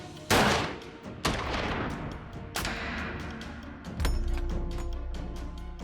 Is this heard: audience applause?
no